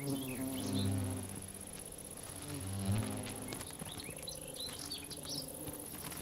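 A female bee-wolf wasp carrying a paralyzed bee buzzes in close swells that rise and fall twice, with bird chirps and insect calls in the outdoor background.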